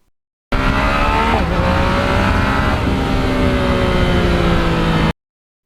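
A modified 2020 Yamaha MT-09 motorcycle with carbon fiber parts roars steadily while riding, its engine note loud and close, rising and dipping through about five seconds, with no talking.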